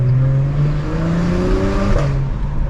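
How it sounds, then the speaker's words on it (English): Acura TLX Type S with Stage 2 tune and catless downpipes, revving loudly and steadily at high RPM, a sustained throaty engine drone held close to the microphone. "This car is popping."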